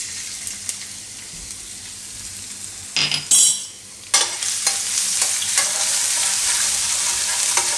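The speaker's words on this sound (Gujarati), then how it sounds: "લસણ આ રીતે થોડીક વાર આપણે નાખી ફેરવી લેવાનું" Garlic sizzles steadily in hot oil for Gujarati aloo baingan paleeta shaak, with a metal spoon scraping and clinking against the pan as it is stirred. The sizzle is close and continuous, swelling after each stir.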